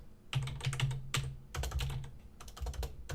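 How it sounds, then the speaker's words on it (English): Typing on a computer keyboard at a desk, close and clear, with bursts of quick key clicks broken by short pauses, alone without talk. "I'm going to type this out"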